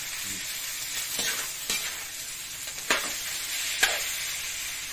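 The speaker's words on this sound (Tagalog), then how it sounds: "So, medyo ipapabrown ng ating chicken." Chicken pieces browning in a pan for Filipino tinola give a steady sizzle and fry hiss, with a few stirring scrapes and sharp utensil knocks standing out over it.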